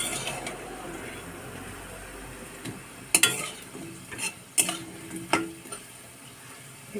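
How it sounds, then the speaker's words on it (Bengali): Fritters (bora) frying in a pan with a low continuous sizzle, broken by several sharp clinks and scrapes as they are turned over with a utensil. "দেখো লাল লাল করে একটু ভেজে নিয়ে নিচ্ছি।"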